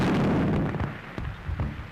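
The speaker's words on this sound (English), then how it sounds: "But what were those explosions? Shells, my dear." Artillery shells explode in an old Hollywood film, a sustained loud rumbling boom at first that fades, followed by a few scattered distant bursts and thuds.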